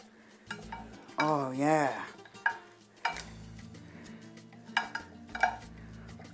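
A nopales cactus salad is stirred and tossed in a bowl, giving soft wet scraping and occasional clinks of utensil against the bowl, close and fairly quiet, with a short spoken remark partway through.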